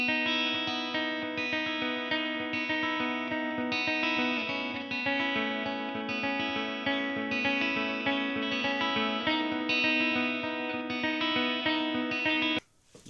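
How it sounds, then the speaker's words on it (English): Electric guitar played through a Line 6 Helix clean ambience patch with heavy reverb and layered effects, sustained chords ringing and washing into one another steadily and loudly for the whole stretch, cutting off abruptly at the end. "Clean ambience is like a lot of reverb, a lot of everything."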